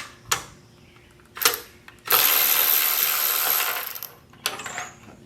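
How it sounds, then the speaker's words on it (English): A wrench works tight bolts loose on an old engine near the oil pan: sharp metallic clicks, then a sustained rasping two-second ratcheting burst and another clack, close and fairly loud with no talk. "I'm gonna use a wrench."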